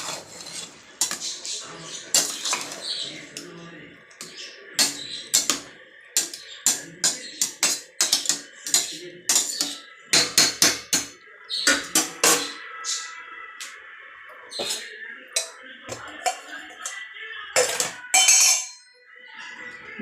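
Mushroom biryani stirred in a pot, close and dry, with irregular rasping scrapes and light metallic clinks of the utensil against the pot's side coming in uneven bursts with short pauses between strokes.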